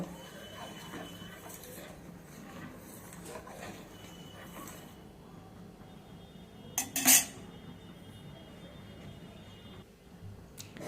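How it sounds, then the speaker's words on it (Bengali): Rice and milk stirred together in a pot, with faint soft scraping and a sharp metallic clink of a utensil against the rim near the middle; quiet, no talking. "এবার চাল আর দুধটাকে ভালোভাবে মিশিয়ে নেব।"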